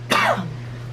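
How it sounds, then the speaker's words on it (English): A single harsh cough or throat-clearing burst, close and loud, fading quickly over a low steady hum. "Apologize for the coughing."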